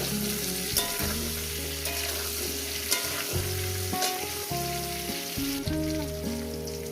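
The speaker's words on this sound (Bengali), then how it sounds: "যতক্ষণ না পটল আর সুন্দর করে ভাজা হয়ে যাচ্ছে ততক্ষণ আমি এটাকে ভাজতে থাকতে" Pointed gourd and potato pieces frying in a pan, a continuous hiss and sizzle with occasional stirring clicks, heard under louder background music.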